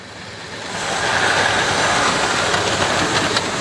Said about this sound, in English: So I'll just show you this loco, hopefully working up the incline